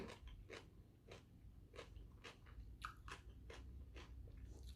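Spicy kohlrabi som tam salad crunches steadily as it is chewed, a quick run of crisp bites and crackles close to the mouth. The clip is quiet overall, with a low hum underneath.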